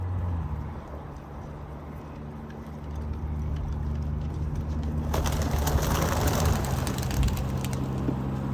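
Racing pigeons around their loft give soft cooing and scattered calls over a steady low background hum, with a burst of rustling and flapping noise joining in later, moderately close.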